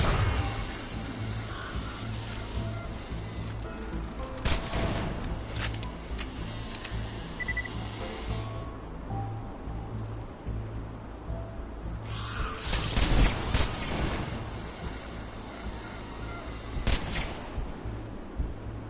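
Heavy gun gunfire in the Borderlands 2 video game, with several sharp, loud bursts spread over a steady background of game noise, a few shots louder and longer than the rest.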